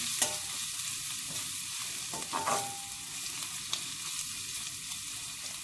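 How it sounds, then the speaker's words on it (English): Ginger, garlic and onions fry in a pot with a continuous bright sizzle, a few stirring scrapes and clinks rising over the hiss, close and steady. "You only need to let that fry for about 30 seconds."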